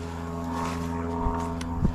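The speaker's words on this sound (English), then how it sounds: "I hear an airplane." A steady low drone of a propeller plane hums overhead throughout, heard from a mountain bike trail at Darien Lake, western New York, fairly distant and even, with a couple of faint bumps near the end.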